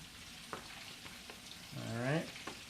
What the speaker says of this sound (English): So I'm going to lay them all out in my skillet.